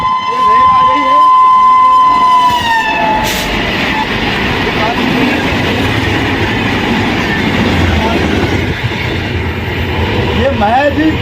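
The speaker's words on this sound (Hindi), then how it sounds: "मेरे पीछे आप देखिए रेल आ गई है। ये रेल आ गई है।" A train rolls past on a railway track only four to five feet away at a historic site, its loud, steady rumble and clatter filling the whole stretch. Someone talks over it at the start and the train noise continues alone.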